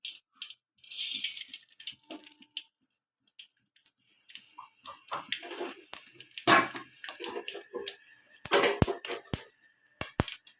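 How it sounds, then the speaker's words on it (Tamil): Mustard seeds splutter and pop in hot oil in a home kitchen, sharp irregular crackles and snaps that start sparse and grow denser and louder, close by with no talk. "கடுகு பொரிஞ்சதும்"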